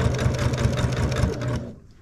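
A sewing machine runs steadily with a quilting needle and variegated blue and white thread at stitch length 4, stitching through a quilt in a fast, even whir that stops near the end.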